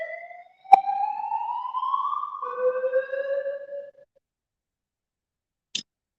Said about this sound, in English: That's just what we need today, a bloody fire alarm